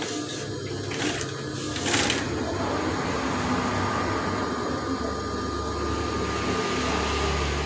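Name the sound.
sewing machine stitching folded fabric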